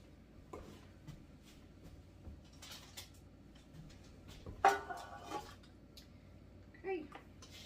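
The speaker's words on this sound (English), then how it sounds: "So, let me get my pan over here." A frying pan is pulled from a home kitchen cupboard while baking banana bread, giving a few soft clunks and a sharper metallic knock and scrape midway, close by against quiet room tone.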